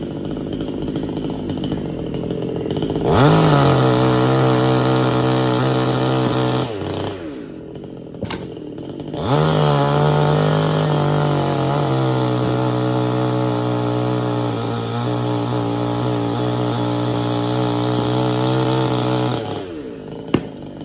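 A chainsaw cuts through a tree in a village setting, revving loudly in two long sustained cuts separated by a brief drop to idle, the engine note steady and strained while biting into the wood.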